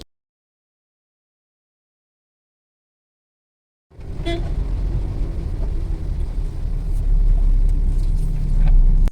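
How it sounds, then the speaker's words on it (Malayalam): After four seconds of silence, a vehicle's engine drones and rumbles steadily as it climbs the hairpin bends of the narrow ghat road to Valparai, growing slightly louder toward the end. "ചുരം കയറി കൊണ്ടിരിക്കുകയാണ് ഒന്നാമത്തെ ഹെയർപിൻ വളവാണ് ഇപ്പൊ നമ്മൾ കയറിയത്"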